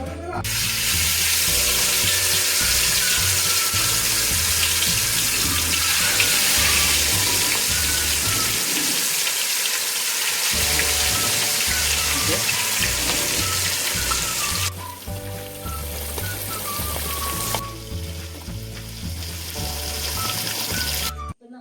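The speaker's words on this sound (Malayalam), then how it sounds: "നമ്മുടെ മസാല വരട്ടി വെച്ച ഫിഷ് വറക്കാൻ പോവാണ്" Masala-coated fish fries in a pan with a steady, close sizzle that holds throughout, with background music.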